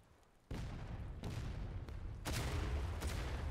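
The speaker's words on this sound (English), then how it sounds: "Some nice counter battery shots coming in from the Union already." Incoming counter-battery artillery fire in the Civil War game War of Rights: a sudden heavy blast, then several more booming impacts at irregular intervals over a low rumbling background, fairly distant and without speech.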